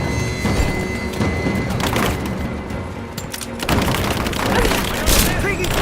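Gunfire and explosions in the video game Rise of the Tomb Raider, a loud, dense barrage of shots and booms with thuds and splintering, mixed with shouting voices.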